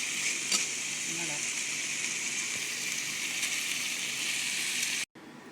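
An omelette with lardons and crème fraîche frying in a pan gives a steady, even sizzle throughout, with a faint voice briefly underneath and a sudden cut near the end.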